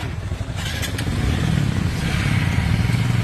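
A motorcycle engine runs close by, a loud, steady rumbling drone that builds slightly and holds, with a few faint clatters over it.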